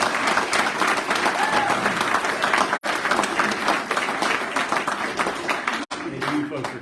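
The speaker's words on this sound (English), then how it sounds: "Let's give one more round of applause." Audience at a fireside evening event applauding, a dense, sustained round of clapping that carries on steadily, with two brief cuts.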